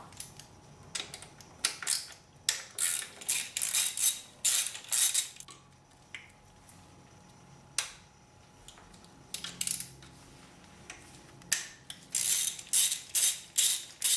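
A ratchet backs out 10mm bolts from a fuel hard line during an SR20DET swap on a Nissan 240sx, giving close, repeated bursts of rapid clicking with short pauses between strokes.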